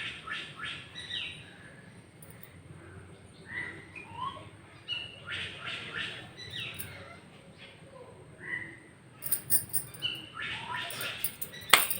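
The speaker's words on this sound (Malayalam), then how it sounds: "എന്തൊക്കെയോ ഏതൊക്കെയോ കിളികൾ വന്നിരുന്നു കാര്യം പറയുന്നുണ്ട്" Morning birds chirp and tweet outdoors in scattered, fairly faint calls, with a busier cluster of squawks near the end and no voices over them.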